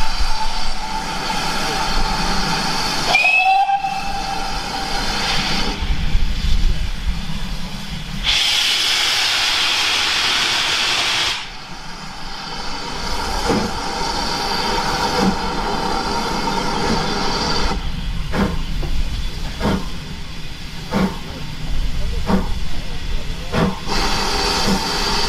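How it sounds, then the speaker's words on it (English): A steam locomotive on the Dean Forest Railway departs Lydney Junction with a loud, sustained roar and hiss of steam, broken by a sharp whistle and rhythmic chuffing bursts building as it pulls away. "hopefully with a good roar of steam as she does"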